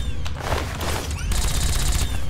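Combat shotgun fire in Fallout 3, loud dense bursts of blasts blending into a continuous rattling barrage of gunfire, up close with no pause between shots.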